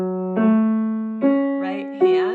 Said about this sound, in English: what an arpeggio is, instead of playing the notes as a block, as we've been doing, we're going to just play the notes one at a time